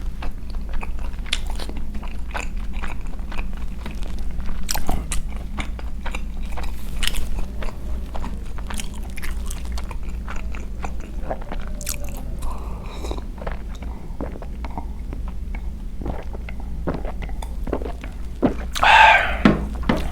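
Pizza is bitten and chewed close to the microphone in an ASMR mukbang, with repeated crisp crunches and soft, wet chewing spread unevenly over twenty seconds against a low steady hum.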